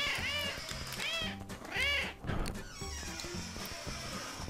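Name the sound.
cats meowing in the video game CatNab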